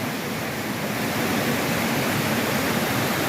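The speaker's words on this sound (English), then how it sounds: "this little creek is literally turned into a river" A small creek in the Cades Cove picnic area, swollen into a river after two inches of overnight rain, rushes steadily and loudly throughout, a dense unbroken roar of water with no voices.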